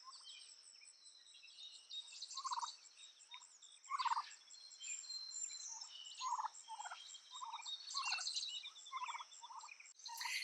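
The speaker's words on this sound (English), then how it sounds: "If you hear any chatter, it's probably just the turkeys." Giant white meat turkeys gobble and chatter in their backyard pen, a continuous overlapping chorus of near calls with several louder bursts of gobbling throughout.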